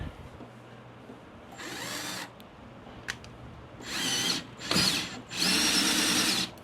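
A cutter machines the barrel of a .308 Weatherby Vanguard rifle for a muzzle brake, lubricated with Tap Magic cutting oil. It gives several separate bursts of high, grinding whir, each lasting one to two seconds, close by, with no talking.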